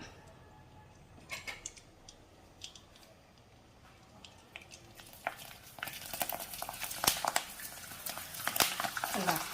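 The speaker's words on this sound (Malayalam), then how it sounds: "എണ്ണ നല്ലവണ്ണം ചൂടായി നമുക്ക് പപ്പടം ഇട്ട് കൊടുക്കാം." Rice pappadam goes into hot oil: a faint quiet start, then a building crackling sizzle with sharp pops and bubbling that grows louder and denser over the last seconds, alongside some talk.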